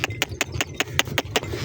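Donkey hooves clip-clopping in a steady run of about nine sharp, evenly spaced strikes while the animal pulls a trolley cart, close and clear over a low rumbling undertone.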